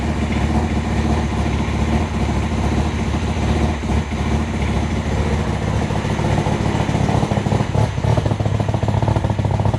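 Right-hand-drive JDM Mazda RX-7 FC3S with a 13B turbo rotary engine running at its first start, a loud, dense, steady mechanical drone with a fast pulsing rhythm and small dips now and then.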